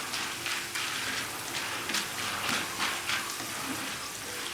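Thick pieces of jackfruit deep frying in hot oil after salt water is poured in, a steady broadband sizzle with bursts of crackling and popping throughout, close and fairly loud.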